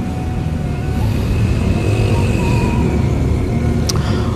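Holiday traffic jam of cars and motorcycles on a busy road in Mangunreja, a steady, loud engine rumble and hum with wind noise and no clear pauses.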